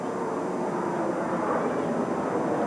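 A charter plane circles overhead at a baseball stadium, heard as a steady broad engine roar that fills the whole stretch without pause, fairly loud and even.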